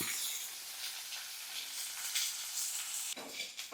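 Okra, shallots and garlic sauté in a pan for a Tamil tamarind kara kuzhambu, giving a steady bright sizzle with stirring scrapes and a louder burst near the end.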